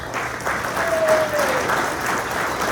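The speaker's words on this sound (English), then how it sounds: "Let's give them a round of applause." Audience applause in a full room at a chamber of commerce mayoral update breakfast, a steady wash of many hands clapping throughout, fairly loud and close, with a brief tonal whistle or feedback tone partway through.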